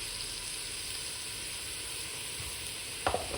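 Ingredients with cardamom sizzle and fry steadily in a pot, a continuous close hiss with faint stirring scrapes and a couple of soft knocks near the end.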